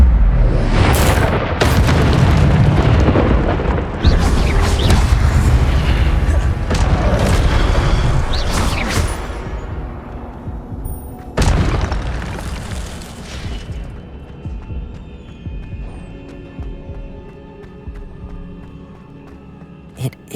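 Incendio fire spell blasts in Hogwarts Legacy, a series of loud booming bursts with crackling fiery tails, several heavy hits in the first half and another around the middle, then fading to quieter magical rumble and tinkling.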